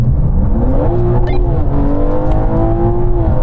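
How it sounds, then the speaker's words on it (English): A BMW M3 with an automatic gearbox in hybrid mode kicks down hard in a rolling race against a Ferrari, the engine note loud and close, climbing steadily in pitch under sustained full-throttle acceleration. "That kickdown was just brutal."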